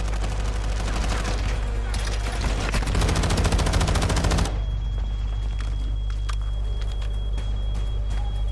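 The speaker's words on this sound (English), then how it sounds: "Turn my weapon to single burst instead of full auto." Rapid automatic gunfire in the video game Warzone, a dense loud burst over the first half that gives way to scattered shots and a steady low game hum.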